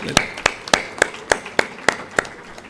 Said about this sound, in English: Let's start with giving all of you a huge round of applause for what you've achieved.